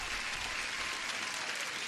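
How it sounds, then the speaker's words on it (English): Applause during a live online trading stream greets a guest joining: a smooth, continuous wash of clapping, fairly quiet and unbroken throughout. "Huge applause for Judith."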